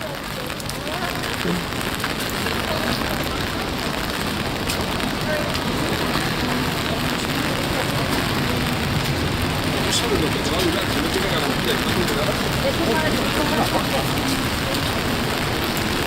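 Rain falls on a New York street, making a steady, dense hiss of drops on pavement that holds at an even level throughout.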